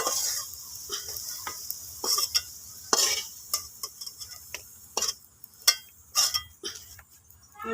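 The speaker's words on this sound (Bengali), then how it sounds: "আলুগুলো সুন্দর করে ভাজা হয়ে গেছে, এবার আমি তুলে নেব।" Potatoes finished frying in oil are lifted from the pan, giving repeated sharp metallic clinks and scrapes of a utensil against the pan over a faint, quiet sizzle.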